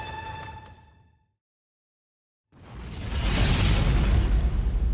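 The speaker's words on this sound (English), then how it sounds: "the suicide bomber had blown himself up" A suicide bomb explosion as a sound effect: a tone fades to a second of silence, then a heavy, roaring blast swells in and rumbles loudly to the end.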